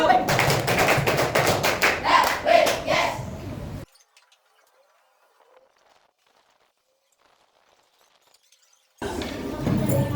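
A class in an Islamic jurisprudence lesson claps out a quick chant, a burst of rapid, crisp hand claps mixed with voices for a few seconds before dropping to near silence, then talk resumes.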